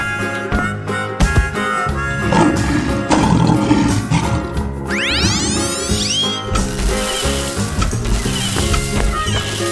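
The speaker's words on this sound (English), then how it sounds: "Lion." A lion roars loudly over busy cartoon music and sound effects for children, with a sweeping chime run partway through.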